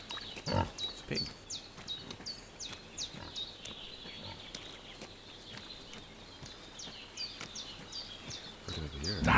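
A pig in Kingdom Come Deliverance 2 snorts and grunts in short bursts near the start and end, set against a calm outdoor backdrop of steady bird chirping.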